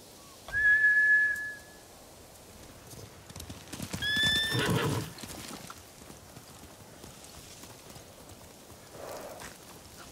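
Horses in the video game Ghost of Tsushima neighing and whinnying, with a sharp whistle and a burst of hoofbeats as they run off, then quieter ambience.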